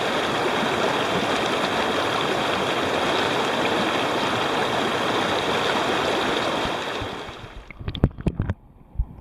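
A creek flowing through high country, with fairly calm but moving current in reasonably deep water. It makes a steady, loud rushing wash that cuts off near the end into a few close knocks and handling noises.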